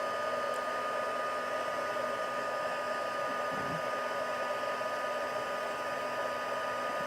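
A heat embossing tool blows on a paper card with a steady, close, continuous whooshing hum, broken by a brief soft rustle of handling partway through and no talk.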